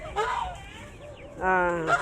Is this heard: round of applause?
no